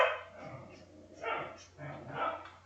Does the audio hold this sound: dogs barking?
yes